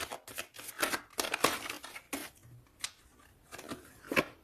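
Tarot cards are handled and drawn, producing a run of quick papery slides and flicks, close and quiet, clustered in short bursts with small pauses between.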